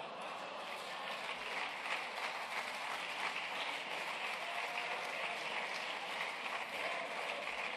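Steady applause fills a parliamentary chamber, a dense, even patter of many hands clapping at moderate volume, holding without a break.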